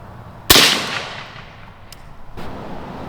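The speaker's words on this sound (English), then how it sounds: "you can also kind of tell when I'm shooting this AR-15 with a suppressor" A suppressed AR-15 rifle fires a single sharp shot into a 2x4 board, a loud close crack that decays over about a second, followed by faint clicks and handling noise.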